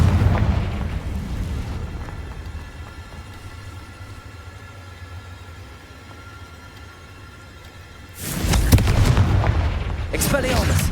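A Confringo spell bursts in Hogwarts Legacy gameplay, with a loud booming explosion at the start, a quieter rumbling stretch, then another heavy blast near the end.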